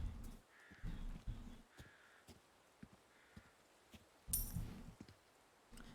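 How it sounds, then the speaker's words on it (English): Crows caw repeatedly in Resident Evil 4 (2023), harsh spaced calls with quiet gaps between them, some nearer and louder, against a faint dark ambience. "I think they're just like crows making like creepy sounds"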